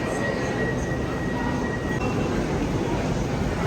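A London Underground train rumbles steadily close by, a continuous low roar with a faint whine, and voices murmur beneath it.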